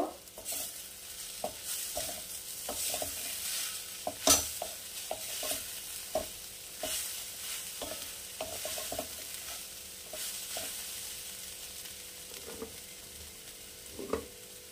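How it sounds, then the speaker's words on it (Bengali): Dry chilli powder being stirred into a frying mixture for a Kolkata vegetable chop: a soft, continuous sizzle under repeated scraping stirs, with a sharper spatula knock partway through and no talking. "এবারে আমি এর মধ্যে দিয়ে দেব শুকনো লঙ্কার গুঁড়ো, দিয়ে আবার নাড়াচাড়া করে নেব।"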